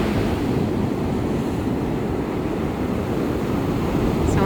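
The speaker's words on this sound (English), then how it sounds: "The waves are probably 7 or 8 feet high." Large ocean waves, around seven or eight feet high, break and churn steadily along the Australian coast in the early morning, with a constant loud roar of surf mixed with wind buffeting the microphone throughout.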